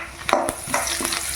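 Curry leaves and dried red chillies fry in hot oil for puliyogare powder, giving a steady close sizzle with a few sharper crackles and stirring scrapes.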